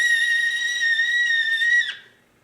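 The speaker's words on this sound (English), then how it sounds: "So the tea kettle is whistling" A kettle on a physics demonstration stage gives a loud, steady, high-pitched whistle that holds for nearly two seconds, then wavers and cuts off sharply, leaving near silence.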